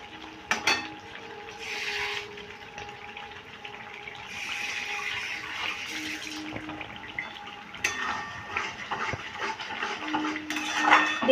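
Soyabean cutlet curry with cashews is stirred and fried in a pan, with irregular scraping and clinking of a utensil against the pan over a soft background of frying, and brief louder knocks now and then.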